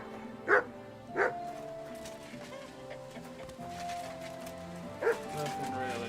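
Dog barks in a video game, three short sharp barks spaced apart over a steady background of game music and ambience, with a voice talking over it.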